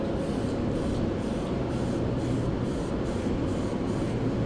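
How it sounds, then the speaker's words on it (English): A spray can applies a coating in a continuous loud hiss that stays close and steady. Faint regular pulses run under the hiss, and no voice is heard. "to say this was the first time that I sprayed it, it went on very well"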